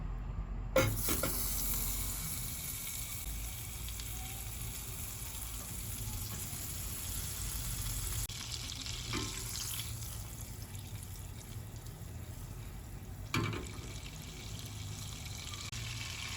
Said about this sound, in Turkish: Sos tavamızın içerisine bir yemek kaşığı tereyağımızı alıyoruz.